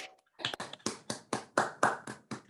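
Board members at an online clean-energy board meeting clap with their microphones unmuted, a ragged series of about eight distinct, fairly close hand claps in an uneven rhythm, with no talking.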